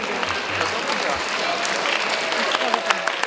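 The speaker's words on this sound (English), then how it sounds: "I wonder whether this clapping is for me" Steady applause from a conference audience filling the whole moment, dense clapping at moderate loudness with no pauses.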